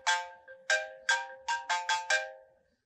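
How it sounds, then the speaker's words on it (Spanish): A mobile phone rings with a bright melodic ringtone, seven sharp chiming bursts in a quick, slightly uneven pattern, close and clear, then fading out with no one talking. "está sonando el celular"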